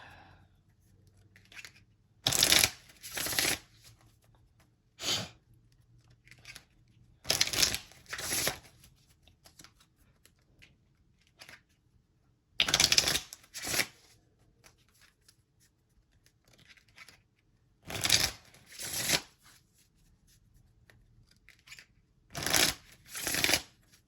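Oracle cards being shuffled in about five distinct bursts, each a quick riffling flutter separated by several seconds of near silence, fairly close.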